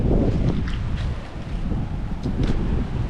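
Strong northeast monsoon wind blows steadily at an outdoor campsite under construction, a loud continuous rush with heavy microphone buffeting and no speech.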